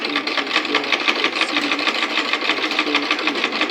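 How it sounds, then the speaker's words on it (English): A sewing machine stitches a dart through gown fabric with a steady, fast mechanical whir and a close, continuous rattle and no pauses. "From there, I'll just sew through the fabric with that half"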